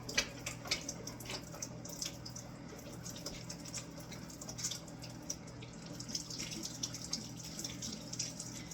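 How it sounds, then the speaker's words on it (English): Hands washed under a running kitchen tap, with a steady stream of water splashing into the sink and small irregular splatters throughout, close and alone. "I'm going to wash my hands for the next step."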